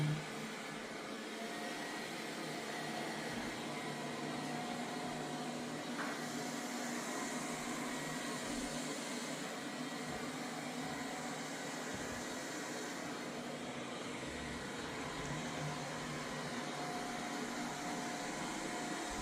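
A Samsung Bespoke Jet Bot Combo AI robot vacuum and mop running a cleaning cycle, giving a steady unbroken whirring drone that holds at an even level throughout.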